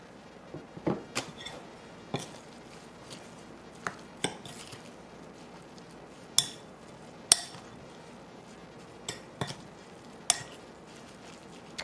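Homemade rosemary and garlic olive oil being mixed into ingredients in a bowl for a shepherd's pie, with sharp, irregular clinks and taps of a utensil against the dish over a quiet kitchen background.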